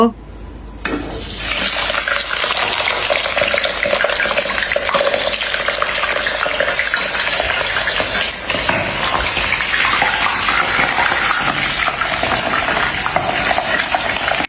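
Fish frying in oil in a wok, a loud, steady broadband sizzle and crackle filling the whole stretch after a brief quieter start, with no talk over it.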